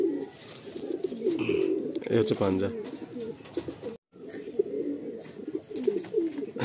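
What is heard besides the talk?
pigeon cooing while handled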